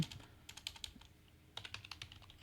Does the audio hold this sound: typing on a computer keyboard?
yes